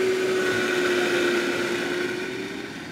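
An air fryer baking Italian bread runs with a steady whirring fan hum and a constant mid-pitched tone, continuous and fairly loud with no other sounds, fading slightly toward the end.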